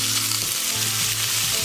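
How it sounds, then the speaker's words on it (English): A pound of ground beef sizzles steadily in olive oil in a pan over medium heat, a constant close frying hiss with faint stirring and no talk. "It's going to sizzle a little bit."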